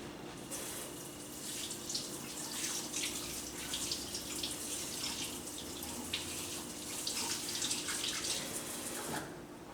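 Hands washed under a running kitchen tap, a steady hiss of flowing water with splashing and rubbing against the sink, close and constant throughout.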